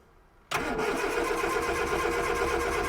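Ford 100E Anglia engine cranks and catches abruptly after a quiet moment, then settles into a loud, steady close-up idle with a mechanical rattle.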